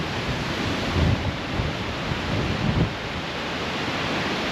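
Waterfall in South Iceland roaring as a steady, dense broadband wash, loud and continuous with slight surges, no voices.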